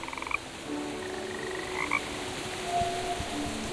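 Frogs in the video game Woven croak in a soft, repeated chorus of short chirping calls over a faint ambient hum, with no voices.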